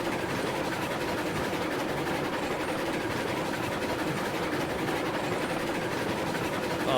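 A steady rumbling train on rails in the video game RailRoads Online, a continuous low roll with faint rhythmic clatter, no voices.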